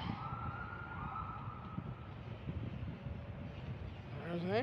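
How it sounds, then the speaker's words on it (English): An ambulance siren wails from a distance, its pitch sweeping up and down over traffic rumble and wind, getting louder at the end. "There's an ambulance."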